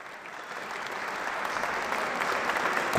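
Applause from an audience at a literary fair in the Palacio de Minería, a soft, even patter of many hands that swells slightly toward the end.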